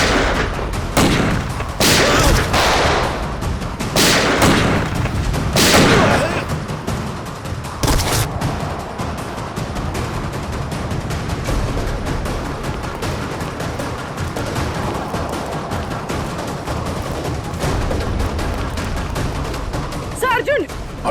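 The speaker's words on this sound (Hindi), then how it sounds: "तो गोलियां चल रही हैं।" Rapid bursts of gunfire in a tense standoff during a crime drama shootout, loud sharp cracks in the opening seconds, then a sustained noisy backdrop of shouting and commotion.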